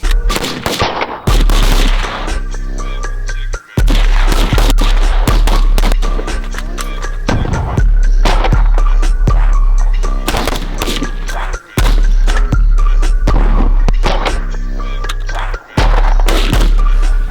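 Repeated gunfire at a volunteer battalion's shooting training, loud close bursts of rifle and automatic fire in rapid volleys with short pauses between strings of shots.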